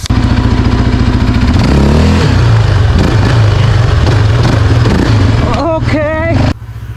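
A 2026 Yamaha Raptor 700R ATV engine revs hard and steadily throughout wheelie attempts, loud and close, with rising throttle surges before it briefly drops near the end.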